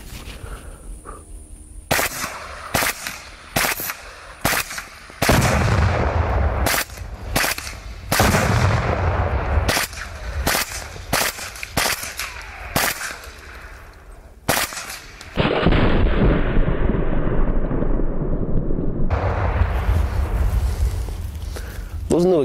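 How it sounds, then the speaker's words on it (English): AAC Honey Badger rifle fire crackles in sharp bursts and single shots, with heavy explosive detonations booming between them, loud and close. "Those new explosives are fucking ridiculous."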